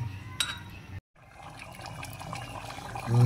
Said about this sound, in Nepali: अब पानी हालेर सिटी लगाउनु बाँकी हो।